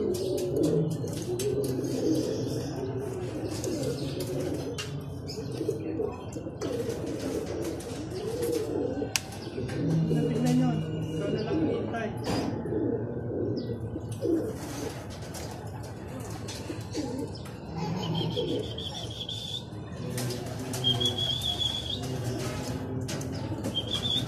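Pigeons coo steadily around a loft for the whole stretch, with bursts of wing flapping, near and moderately loud.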